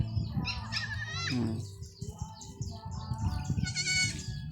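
Several young goats bleat in high, wavering cries, some overlapping, close by, with faint bird chirps and rustling in the background.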